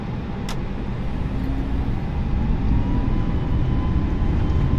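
Airbus A320neo engines spooling to takeoff thrust, heard as a steady, loud roar with a rising whine that holds throughout with no voices.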